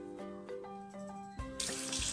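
Quiet tap water splashes while a glass is rinsed, starting partway through behind steady tonal background sounds and continuing to the end.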